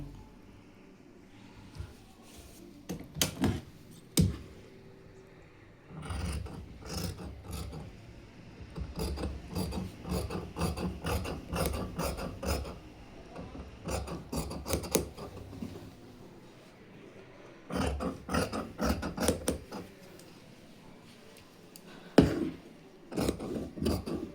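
Scissors cut through folded blouse lining fabric in a series of close, dry snipping and rasping strokes that come in bursts with short pauses between them, and no one speaks.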